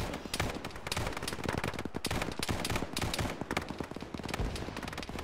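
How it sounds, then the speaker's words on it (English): Sustained gunfire in a ShackTac Arma military video game battle, rapid automatic bursts and overlapping shots cracking densely and loudly, continuous throughout. "We're getting shot at."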